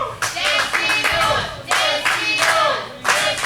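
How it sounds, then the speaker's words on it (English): Crowd at an MPW professional wrestling show cheering and clapping for wrestler Destino during a tag team match, with repeated swelling bursts of applause and shouts from a large audience. "The crowd cheering for Destino"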